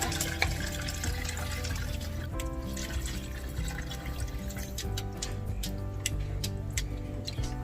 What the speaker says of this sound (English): we're going to add in enough water until it covers the top of the pasta